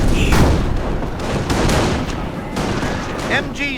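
In the Company of Heroes video game, dense gunfire and machine-gun bursts rattle loudly and nonstop, with heavy booms and voices breaking through the battle.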